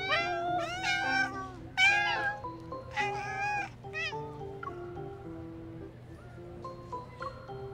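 Cats in the Love & DeepSpace game meow one after another in a quick overlapping string, loud and close, with softer, higher calls trailing off toward the end.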